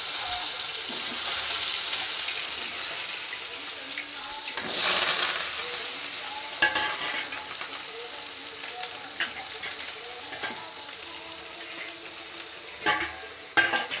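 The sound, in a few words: mustard and cumin seeds sizzling in oil for plantain stir-fry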